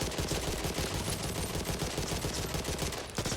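Rapid automatic gunfire from fast fire rate weapons in the Back 4 Blood video game, a dense continuous burst of shots, loud and close, with no talking over it.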